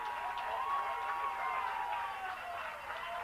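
Raider fans cheer in the stands at a 1997 high school football game between Bowling Green and Warren East, a broad, steady crowd roar that swells slightly and holds throughout, with an announcer talking over it.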